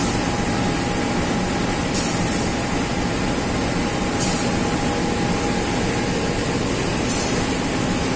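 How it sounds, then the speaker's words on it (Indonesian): The loud locomotive of the Kuala Stabas train between Tanjung Karang and Baturaja runs steadily nearby, its engine roar and hiss filling the air without a break, with a few brief higher bursts. "nggak bisa tengok lokomotif ini, keras banget."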